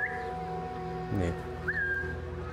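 A player character whistles to lure a guard in Assassin's Creed Mirage: two short whistles, one at the start and one later, over steady game ambience, with a brief vocal sound in between.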